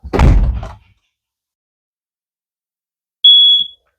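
A propane LP detector alarm in a 2023 Forest River Wildwood 42 QBQ RV gives one short, loud, steady electronic beep, coming after a brief thump and then silence.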